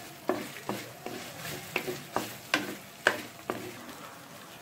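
Green chilies frying in a pan while being stirred, a soft steady sizzle punctuated by about nine regular scraping strokes of the spatula, close and alone without speech.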